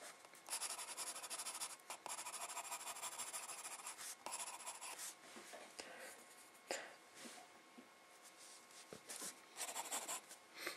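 A pencil scratches and rubs across paper in close, continuous strokes with brief pauses, sketching the folds of a nose in a drawing lesson.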